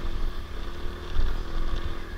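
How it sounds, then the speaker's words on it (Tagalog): A motorcycle engine labours on a rocky road at night, a steady close rumble with slight surges as it strains. "Mahirapan yung motor"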